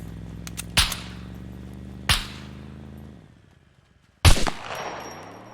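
Gunfire in the video game SCUM: three loud, sharp shots, well spaced and each followed by a ringing decay, with the last shot louder and doubled.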